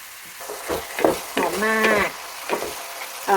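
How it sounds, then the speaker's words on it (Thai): Pork sizzles in a hot pan while being stir-fried, with scraping utensil strokes and a brief bleating-like tone in the middle. "จากนั้นเราก็เอาหมูลงมาคั่วนะคะ คั่วหรือลวนๆเลยค่ะ"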